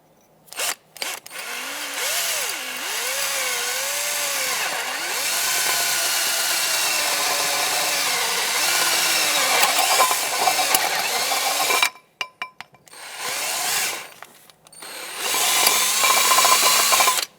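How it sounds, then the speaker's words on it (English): A power drill runs loudly for about ten seconds, its pitch wavering as it bites into metal, drilling out a broken ABS wheel speed sensor on a 2014-2021 Mazda 6, then stops and restarts in short bursts. "Now I'm going to take a drill bit and just drill out the center of it."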